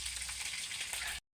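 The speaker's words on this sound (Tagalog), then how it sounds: "karne naman is pinirito ko po" Meat frying in hot oil for a Filipino breakfast dish gives a steady, dense sizzle and crackle that runs evenly for just over a second, then cuts off into silence.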